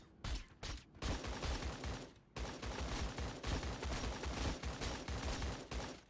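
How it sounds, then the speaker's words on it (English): Gunfire in the Fortnite video game, rapid bursts of shots with a couple of short separate reports first, then a dense sustained volley, fairly quiet overall. "I'm gonna shoot him down, okay?"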